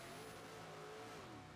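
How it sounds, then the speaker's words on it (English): A BMW M3 race car's V10 engine revs hard and steady, a loud continuous mechanical roar with rising and falling pitch, close by, at Sonoma. "Cookie sounds like he's got a lot of power in that V10 M3."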